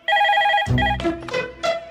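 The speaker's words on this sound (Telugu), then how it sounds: "రింగ్ అవుతుందిరా" A telephone rings close by with a bright electronic trill, followed by a few more short tonal bursts.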